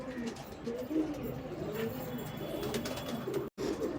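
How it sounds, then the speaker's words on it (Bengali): An old male Andhra breed pigeon, about seven years, coos in repeated soft rolling phrases close by, with other pigeons murmuring around it in a quiet indoor loft. "এটি হলো খুব পছন্দের একটা নর পায়রা।"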